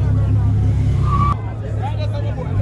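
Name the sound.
race car at the track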